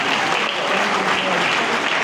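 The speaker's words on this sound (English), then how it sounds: "I think he deserves another round of applause" Audience applause for a Nigerian senator who chairs a Senate committee on local content, a dense, steady wash of clapping filling the room at close range with no voices over it.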